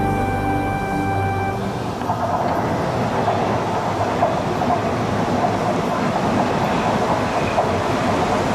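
A passenger train runs along railway tracks in 1991, producing a steady, close rumble with a rhythmic wheel clatter that continues throughout without a break.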